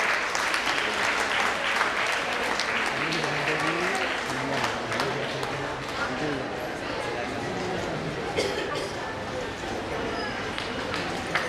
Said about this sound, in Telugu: చప్పట్లు కొట్టండి ఒక్కసారి.